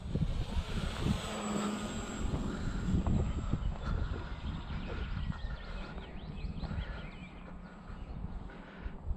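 An RC model plane flies at about quarter throttle outdoors, giving a faint, steady engine drone under broad outdoor noise that stays even throughout with no sharp changes.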